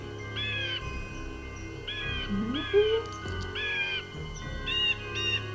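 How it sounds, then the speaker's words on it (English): A blue jay's harsh, repeated call plays from a recording, several loud, raspy bursts spaced through the clip over a faint background murmur. "Blue jay."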